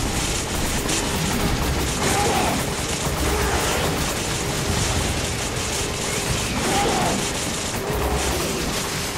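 Steady dense gunfire and muffled booms from a battle in the video game Resident Evil 5, a continuous loud wash of shots with a few heavier bursts.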